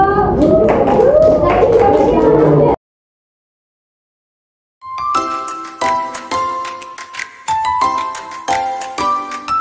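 Hands clap in a steady rhythmic pattern during a classroom lesson for teachers, crisp and close, starting after a short silence that follows a stretch of singing.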